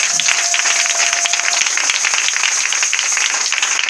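A church congregation breaks into dense, sustained applause, many hands clapping evenly and loudly throughout without pause.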